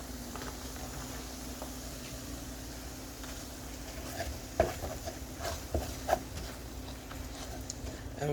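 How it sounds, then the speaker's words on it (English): Beef stew ingredients sauteing in a pot, a low steady sizzle and bubbling hum with a few scattered clinks and scrapes of stirring toward the end. "this is sauteing up"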